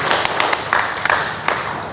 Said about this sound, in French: Si vous permettez, vous pouvez l'applaudir.